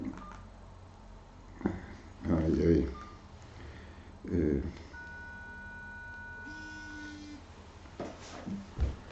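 A mobile phone gives a few electronic beeps and sustained tones as it is switched off, while a person hesitates and talks softly in Polish nearby, with a faint hum throughout.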